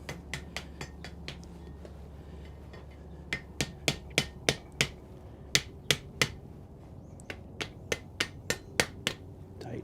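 Hammer blows on hot metal in a blacksmith's smithy, a run of sharp ringing strikes in quick irregular bursts, close and clear over a low background hum, with no talking.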